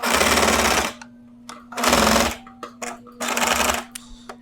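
Sewing machine stitching a long straight seam along the edge of a bug net, three loud sustained runs of rapid mechanical whirring separated by short pauses with small clicks and handling noises.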